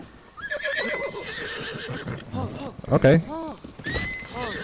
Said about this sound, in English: Horse going wild.